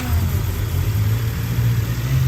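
A car engine with its boost turned up to about 14 through a piggyback ECU drones loudly and steadily, a continuous close engine roar with no voices.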